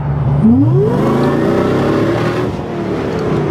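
A supercharged V8 in a Mitsubishi Pajero Evolution accelerates hard, its loud engine note climbing steadily in pitch from a low rumble and holding a strong, close roar with no talk over it.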